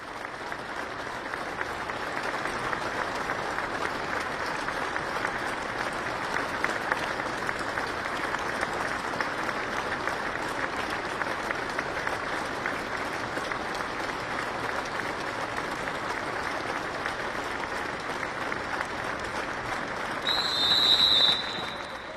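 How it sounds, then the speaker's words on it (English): A football stadium crowd at Anfield sustains a minute's applause as a tribute, a dense, continuous roar of clapping from thousands of hands that stays even and loud throughout, swelling slightly near the end. "take a minute's applause."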